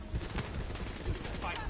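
Rapid automatic turret gunfire in a Black Ops 3 campaign battle, a dense, continuous run of sharp bursts at close range with steady loud crackle throughout.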